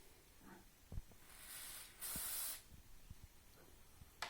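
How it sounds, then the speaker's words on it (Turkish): An aerosol can is sprayed while a coconut shell planter is made, giving a soft hiss and then a louder, steady burst of about half a second, close by, among faint handling clicks and taps. "sabitledikten sonra spreyi sıkınca hemen sertleşip yapışıyor"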